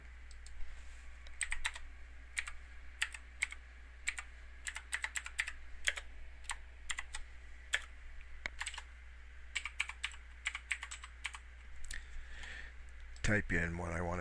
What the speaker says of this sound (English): Type in what I want to say.